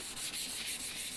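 Paper rubbing an oil sharpening stone clean, a brief, steady dry scrubbing with a faint rhythmic back-and-forth pulse.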